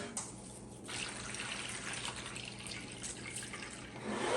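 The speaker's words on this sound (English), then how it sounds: "I am going to add a little bit more water because I do think that this is going to suck up more water." Water pours steadily into a potted clearance plant, a continuous splashing trickle close by with slight shifts in flow and no speech.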